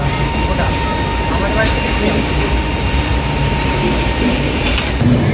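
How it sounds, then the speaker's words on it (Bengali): The Doon Express arrives at Durgapur station with a continuous loud rumble of rolling railway carriages, steady metallic clatter and faint squeals, while voices are heard underneath. "ট্রেন এসে পৌঁছালো দুর্গাপুর স্টেশনে"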